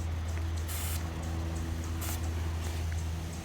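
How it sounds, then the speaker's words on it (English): A pressurized hand sprayer pumped to about 20 psi hisses in short bursts as it mists Surround WP kaolin clay onto avocado trees, the sprays standing out over a steady low outdoor hum. "So I'm gonna go around spraying my trees"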